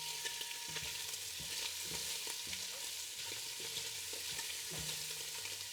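Sausage sears and fries in a pot with a soft, steady sizzle and crackle of rendering fat, punctuated by occasional scrapes and taps of stirring, quiet and close with no talking.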